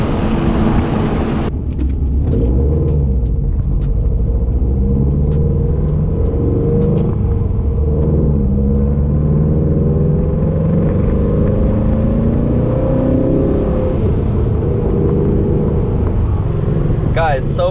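A Stage 3 Subaru WRX tuned with a Cobb Accessport drones with a deep, steady engine rumble from inside the cabin while driving, with someone talking throughout.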